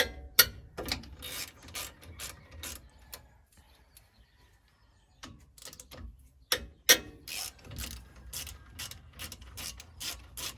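Sharp ratchet clicks from a 13mm socket loosening brake caliper bolts on a Ford F150, coming in close, loud bursts with a quiet pause in the middle, then resuming in rapid repeated strokes.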